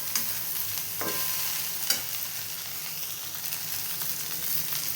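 Sliced okra fry sizzling steadily in a hot pan, with a few sharp scraping stirs of a spatula cutting through the constant hiss; no voices.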